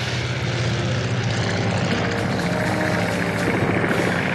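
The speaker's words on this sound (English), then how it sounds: "the Germans began sending their planes out in packs of four" World War I German propeller warplanes fly in a group, giving a loud, continuous, droning engine roar with a slight rising and wavering throb, heard close and alone throughout.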